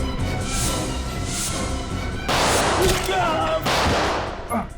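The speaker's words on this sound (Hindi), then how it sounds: "बाहर गोली चलने की आवाज" Gunfire rings out outside in a tense indoor standoff, a dense burst of sharp cracks over a loud, rumbling background, heavier in the second half.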